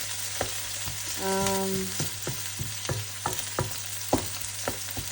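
Onions sizzle steadily in a pan for a Filipino caldereta with sausage, with a constant frying hiss and repeated spatula stirs and scrapes at close range, plus a brief tonal hum in the middle.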